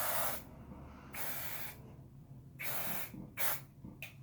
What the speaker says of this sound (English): Basically, I'm scrunching and I'm spraying.